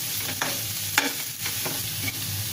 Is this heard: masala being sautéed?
yes